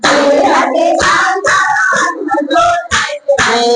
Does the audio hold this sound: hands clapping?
yes